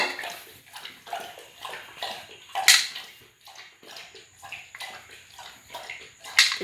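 A pet dog named Jimmy laps water from a bowl after his morning meal, giving off soft, irregular splashing and sloshing sounds with a few sharper splashes, fairly close and quiet.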